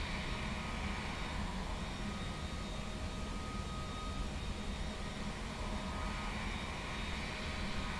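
Steady, loud roar of Airbus A321 engines in the Flight Sim Labs simulator, a continuous broadband drone with a faint whine above it while the airliner taxis past its runway turn.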